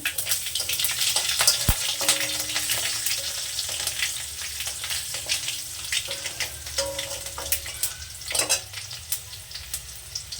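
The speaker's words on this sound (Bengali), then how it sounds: "দিলাম কটা সর্ষে ফোড়ন কাঁচা লঙ্কা সর্ষে তেলে" Mustard seeds and green chillies fry in mustard oil as a tempering for a sour chanda fish curry with ambuli greens; continuous close crackling sizzle with sharp pops and a few clanks of utensils.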